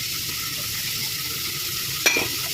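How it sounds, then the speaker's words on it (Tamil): Onion, tomato, peas and carrot sauté in a pan for semiya kichadi, making a constant soft frying hiss with a single sharp utensil clink near the end, and no voices. "இது கொஞ்சம் வதங்கட்டும்."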